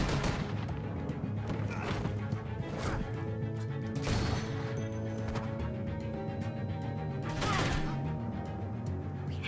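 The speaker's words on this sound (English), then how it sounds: "I hear gunfire." Gunfire in The Walking Dead: A New Frontier, with several sharp shots at irregular intervals over a busy, continuous game soundscape of rumbling and clattering noise.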